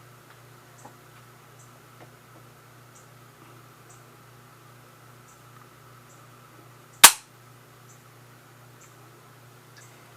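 The trigger of a Chinese Type 53 carbine dry-firing, one sharp, loud metallic snap close by against a quiet room with faint soft ticks before it.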